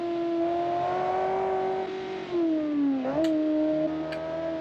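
The engine of a Kiev Motors 10 car in the BeamNG driving game drones steadily and close. Its pitch sags, dips sharply and then recovers as the throttle changes, with no talk over it.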